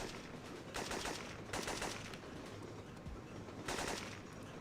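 Rapid automatic gunfire from a PS1 demo video game, several loud sustained bursts separated by brief gaps over a constant background hiss, with no talking.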